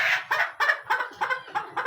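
Week-15 layer hens on a poultry farm cluck in a steady, rhythmic series of short calls, roughly three or four per second, close and clear with no talking over them.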